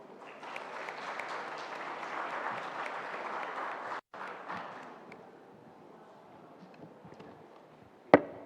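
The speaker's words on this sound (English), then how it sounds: "Please give them a round of applause." Ceremony audience applauds the Timor-Leste team at an award presentation and closing ceremony, a moderate burst of clapping that fades after a few seconds, followed by quiet room noise and a sharp thump near the end.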